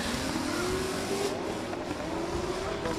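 A drift car runs a qualifying lap at a drift championship round in Oman, its engine droning steadily at a distance with a faint tyre hiss as it slides wide in understeer, with no talking.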